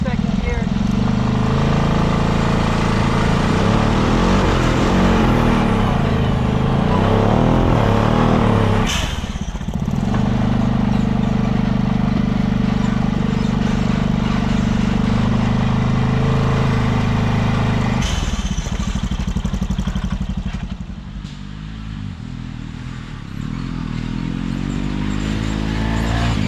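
A Honda Pioneer 500 side-by-side fitted with a turbo drives along, its engine a loud steady drone with two brief dips as it shifts, a person talking over the running engine.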